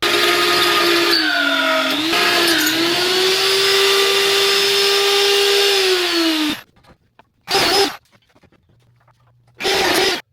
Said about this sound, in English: What I'm doing now is just widening these base holes out a little bit